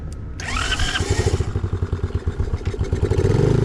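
A small, fully automatic SyxMoto dirt bike with electric start fires up and putters at close range, its single engine running in a quick, rough, chugging rhythm that rises slightly at the end.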